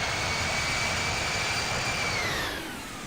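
Jet airliner engines spool up in a steady, loud roar with a high whine rising over a broad rumble, then easing off near the end, in the Infinite Flight simulator game.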